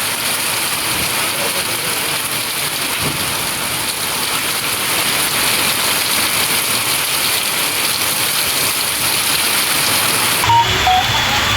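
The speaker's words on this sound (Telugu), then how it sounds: "పలు గ్రామాల్లోనూ జోరు వర్షం కురిసింది." Heavy rain pours down in a steady, close wash of hiss and patter that lasts the whole stretch, shifting briefly near the end, with no speech.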